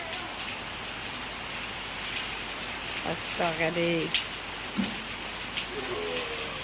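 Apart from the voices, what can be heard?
rain falling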